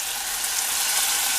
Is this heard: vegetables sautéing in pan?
yes